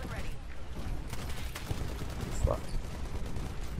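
Gunshots in the Titanfall PC shooter during an Attrition match, heard as scattered muffled shots under a busy game mix while someone talks over them.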